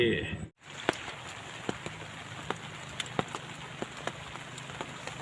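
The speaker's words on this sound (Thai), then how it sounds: "ฝนตกแรงแท้" Steady rain pours down in a dense hiss, with scattered louder drops smacking a nearby surface at irregular intervals.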